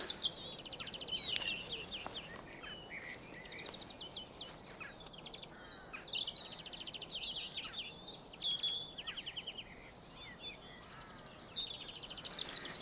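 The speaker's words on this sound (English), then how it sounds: "Birds singing. Is that not the representation of spring?" Birds sing and chirp in a spring garden border, with bright repeated calls from several birds over quiet background hiss and faint insect sounds.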